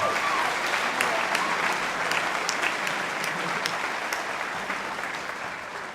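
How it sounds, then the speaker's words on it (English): Warm, sustained applause from a high school Year 12 graduation audience, many hands clapping steadily and tapering slightly over six seconds, with faint voices mixed in. "I think that deserves a round of applause."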